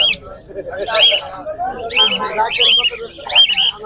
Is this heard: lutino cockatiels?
yes